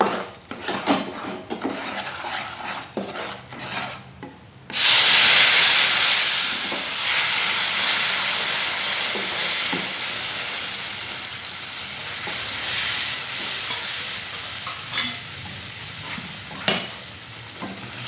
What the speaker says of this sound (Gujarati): હવે આપણે તેમાં દૂધ એડ કરીશું।